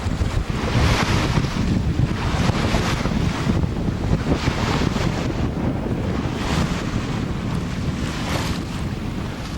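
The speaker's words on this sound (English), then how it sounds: "I raise anchor and am underway." A boat getting underway after raising anchor, with waves washing against the hull and gusty wind buffeting the microphone in a loud, continuous roar that surges and eases, with no voices.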